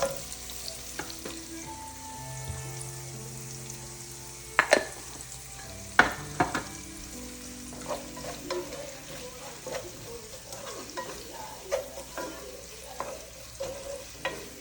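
Sliced onions with salt fry in a pan for a street-food boti fry, giving a soft steady sizzle with occasional sharp clinks and scrapes of a spoon stirring against the metal.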